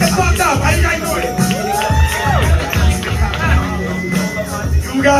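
A comedy club audience in Henderson cheers, whoops and shouts for comedian Davian Velez, a loud, dense crowd roar that holds steady throughout with rhythmic low thumps beneath.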